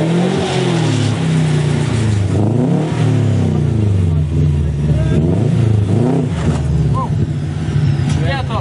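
An AWD car on test rollers revs hard, the engine pitch climbing and falling in repeated surges close by, with voices talking over the roar.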